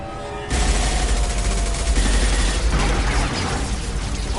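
Gunfire in Mass Effect Legendary Edition erupts suddenly after a brief quiet moment, then rattles on as a sustained loud barrage of overlapping shots with deep booming undertones.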